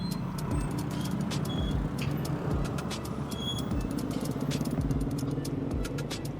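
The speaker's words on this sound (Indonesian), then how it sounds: "Yang lewat motor, mobil." Motorbikes and cars stream past on a busy roadside in constant traffic, a dense steady engine roar with passing whooshes and faint high squeals layered on top.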